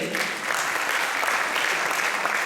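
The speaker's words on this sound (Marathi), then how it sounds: "तिला निश्चितच टाळ्या मिळायला पाहिजे" An audience applauds steadily at a prize distribution for a music competition, a dense, even clapping that stays loud throughout.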